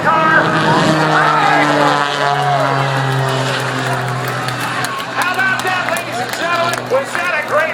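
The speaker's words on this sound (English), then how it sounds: "here comes the Smoking Thunder jet car." The Smoking Thunder jet car races past at the Paulding County Air Show, its loud roaring engine tone shifting under an announcer's amplified voice and crowd noise.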